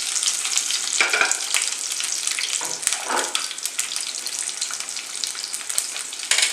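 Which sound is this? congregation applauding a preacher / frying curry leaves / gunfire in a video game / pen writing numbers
frying curry leaves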